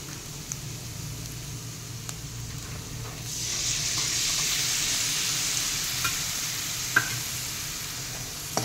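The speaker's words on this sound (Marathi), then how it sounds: "गॅस बारीक ठेवून आपण याला आता टोमॅटो प्युरीला छान तेल सुटेपर्यंत आपण हे परतून घेऊयात।" Tomato puree sautés in oil on a low flame for a ridge gourd curry, with a steady soft sizzle that swells partway through and a few light clicks of stirring, with no talking.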